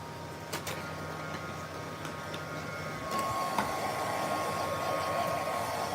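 A robot vacuum running with its dirt bin removed produces a steady whirring hum with faint ticks, and its motor noise rises and grows louder partway through.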